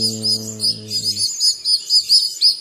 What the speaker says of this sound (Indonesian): kardus pertama ya ada ini ada dua ekor anakan piung